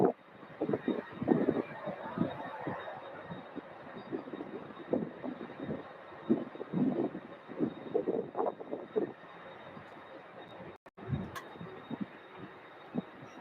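A UPS MD-11 cargo jet sitting at the end of the runway at Louisville airport, its engines giving a distant throbbing rumble with uneven pulses, fairly faint, no talk.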